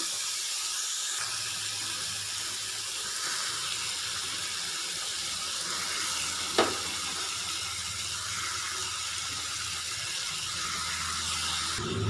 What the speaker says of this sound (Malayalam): പപ്പായ ഇട്ട് കൊടുത്തതിന് ശേഷം നന്നായിട്ടൊന്ന് ഇളക്കി കൊടുക്കാം.